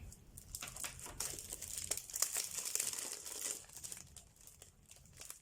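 Sheets of shiny metallic paper are handled for a star-shaped mini album, giving a steady close-up crinkling and rustling with soft scattered crackles throughout.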